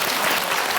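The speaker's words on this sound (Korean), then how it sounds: "나 박수 쳐야 돼." Dense burst of hands clapping from a studio audience, loud and continuous for under a second with no pause.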